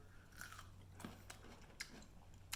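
A homemade pickle bitten and chewed up close gives a few crisp, wet crunches at uneven intervals, faint against a low steady hum with no talk.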